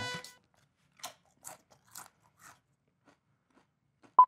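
Consommé Punch potato chips crunched in the mouth: a few sharp, close bites spaced about half a second apart, with quiet gaps between them and a final loud crackle near the end.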